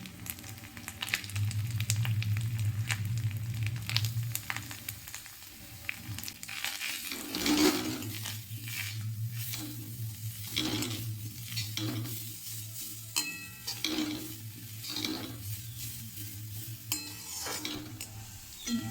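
Soft sizzling of grated beetroot frying in a pan, with repeated scraping and stirring sounds, fairly quiet and close, with no talking.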